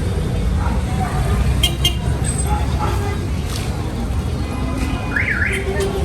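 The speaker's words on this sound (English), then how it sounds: "I've never seen a country where they like honking more than in Peru." Heavy street traffic in Peru rumbles close by, with scattered car horns honking through the noise and a sustained tone rising and falling near the end.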